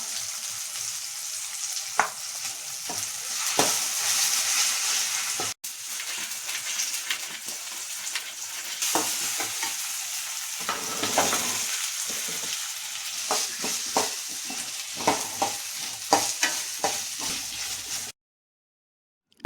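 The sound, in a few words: ginger garlic paste frying with onions in pan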